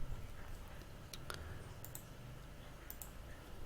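Sparse, faint clicks of typing on a computer keyboard while entering a command, a few scattered keystrokes over a low background hum.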